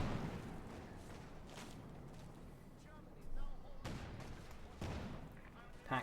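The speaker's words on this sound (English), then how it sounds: "coming under fire from the H6 assault gun" H6 assault gun fire in a wartime strategy video game, faint distant booms and cracks scattered through a busy battle backdrop, a few sharper bursts standing out near the middle and end.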